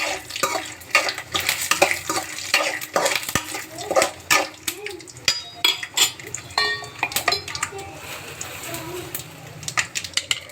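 Peanuts frying in a pan, with frequent metallic clinks and scrapes of a utensil against the pan over a low background hiss, rhythmic and close.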